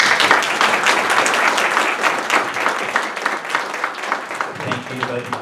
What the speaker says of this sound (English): Now it would be a great time to applaud the performance.